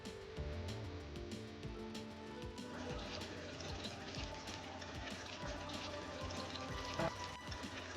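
Natural-sounding water flows steadily from a rainbow waterfall model in a Sankranti Golu doll display, a continuous hiss-like trickle and splash with a faint soft tone running underneath throughout.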